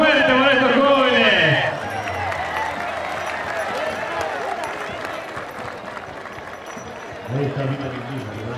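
Spectators at a Chilean rodeo in a medialuna arena applaud young riders, a broad steady roar of clapping and crowd noise lasting several seconds, with a voice talking over the start and end.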